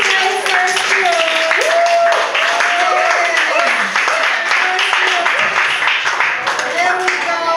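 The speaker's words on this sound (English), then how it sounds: "we shall give them the loudest applause" An audience applauds to welcome the first group onstage, a steady wash of clapping lasting throughout with cheering voices and some shouting mixed in.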